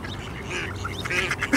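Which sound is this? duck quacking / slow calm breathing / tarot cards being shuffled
duck quacking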